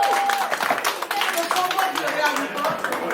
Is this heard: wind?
no